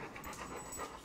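A cloned Labrador dog panting in quick, rapid breaths, close and soft, with no other sounds.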